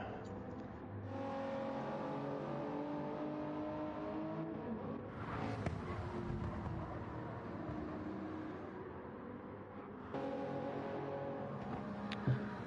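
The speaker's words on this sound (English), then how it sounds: "get a little listen to all these cars and how they sound" GT3 race cars at the Red Bull Ring in a racing video game drone and rev steadily, engine tones rising and shifting as cars pass, fairly quiet and continuous without talking.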